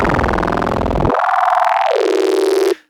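Modular synth bass run through basic frequency shifting, turning a dense low growl into a sustained metallic, inharmonic ring that sweeps upward, loud and continuous for under three seconds before cutting off abruptly.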